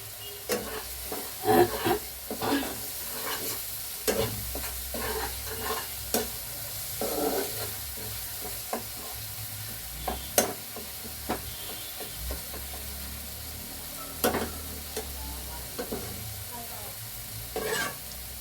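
Cauliflower korma frying in oil as a spoon stirs it, with a soft continuous sizzle broken by repeated scraping clacks at an uneven pace, close by.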